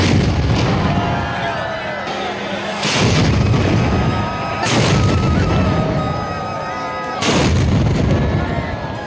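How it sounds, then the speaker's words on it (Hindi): A 21-cannon salute fired at midnight for Krishna Janmashtami at the Shrinathji temple in Nathdwara, Rajasthan: three loud, booming blasts spaced a couple of seconds apart, each with a long rumbling roll that lingers over continuous background crowd noise. "श्री कृष्ण बाल स्वरूप श्रीनाथ जी को आधी रात को ठीक 12 बजे कृष्ण जन्मोत्सव पर 21 तोपों की सलामी दी जाती है"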